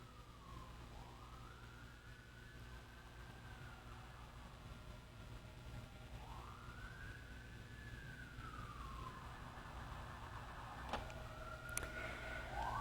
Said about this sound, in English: maybe you're hearing the ambulance or the siren go by me